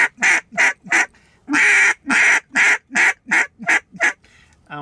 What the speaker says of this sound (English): grunt into their call excessively, and so you almost hear more grunt than you do call